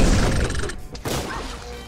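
Loud, crunchy explosions from the PS4 game SpongeBob SquarePants: Battle for Bikini Bottom – Rehydrated burst out one after another, with a brief lull in the middle before another heavy blast.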